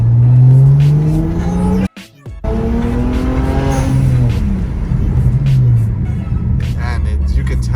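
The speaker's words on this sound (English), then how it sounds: "this car sounds really like amazing. With the blow-off valve, the catless downpipe, such a good combination." Loud BMW with a blow-off valve and catless downpipe revs hard on an empty street, the engine note climbing and falling, cut by a brief sharp break near two seconds.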